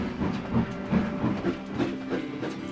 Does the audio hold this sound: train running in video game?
yes